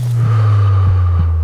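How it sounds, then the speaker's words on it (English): Layered sound design of a male breath exhaling over a low, steady heartbeat, with soft thumps pulsing under a sustained low hum in a vast open space. "I just added breath male 1, exhaling as I jumped off the rock, and a heartbeat underneath."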